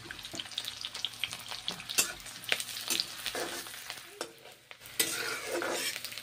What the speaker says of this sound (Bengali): পেঁয়াজগুলো ভেজে নিচ্ছি, প্রথমে একটু লাল লাল করে ভেজে নেব।